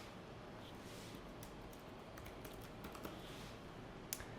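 Computer keyboard typing while filling in an online sign-up form: a faint, steady patter of soft key clicks at close range over a quiet room hiss, with one sharper tap near the end and no talking.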